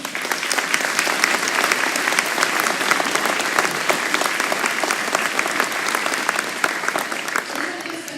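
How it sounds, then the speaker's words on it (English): An audience at a high school and middle school spring concert applauds seniors, with dense, sustained clapping filling the room at full volume from start to finish. "Can we give them a round of applause, please?"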